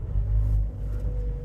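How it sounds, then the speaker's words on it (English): A Mazda CX engine turns over and settles into a low, steady idle rumble, heard from inside the car with no talking. "Let's turn the engine on now."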